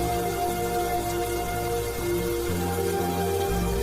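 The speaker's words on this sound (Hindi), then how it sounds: "ऊपर से बारिश भी हो रही है।" Cartoon rain falls as a steady, even hiss of drops that fills the whole stretch, with a soft musical drone underneath.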